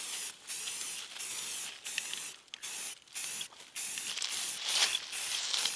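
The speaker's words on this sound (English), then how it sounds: "I'll kind of just try to put on like a light base coat" A rifle gets a light base coat from a spray can, short bursts of close hissing spray separated by brief pauses, several passes in a row.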